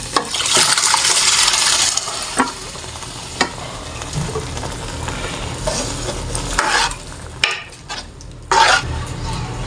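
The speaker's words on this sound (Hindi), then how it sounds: "तो अब जो हमारे चने हैं हमने जो उबाल के रखे हैं वो डालेंगे इसमें।" Boiled black chickpeas tipped into a simmering gravy in a pot and stirred, with a loud sizzling splash at the start, then clattering spoon strokes against the pan and bursts of bubbling, no talk.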